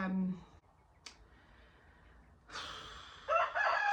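Chickens cluck and squawk loudly near the end, following a stretch of quiet outdoor background and a brief earlier click.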